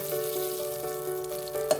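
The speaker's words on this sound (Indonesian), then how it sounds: "masukkan 3 sendok makan mentega ke dalam wadah yang sudah dipanaskan" Butter melting in a preheated pan for banana jam fries with a steady, even sizzle and faint crackles, plus a brief clink near the end, with no voices.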